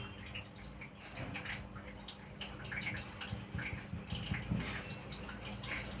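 A small home water fountain recirculating the same water runs steadily, a continuous close trickling and splashing with faint gurgles and no pauses.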